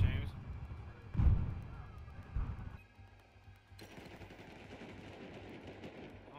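Gunfire in an online multiplayer shooter match, with bursts of shots and thuds mixed with game noise while players talk over it.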